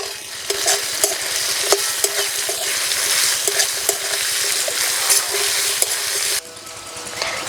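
Cauliflower and vegetables stirred and fried in a pan over low heat after cumin and ginger, with salt added: a steady close sizzle with repeated scraping stirs throughout, easing off near the end.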